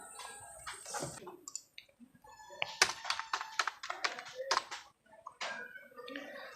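A card holder's name being typed on a computer keyboard for a PVC ration card order. Quick bursts of close, crisp key clicks come in uneven clusters with short pauses, and a soft voice is faintly present.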